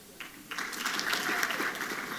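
Applause from a conference audience at a Congressional Black Caucus Foundation Africa Braintrust session, a short burst of steady clapping at moderate distance, rising slightly and holding with no voices.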